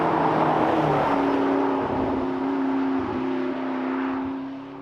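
A McLaren 12C supercar drives along, its engine a steady, smooth drone heard from inside the car with slight shifts in pitch and a gradual fade near the end; no talking.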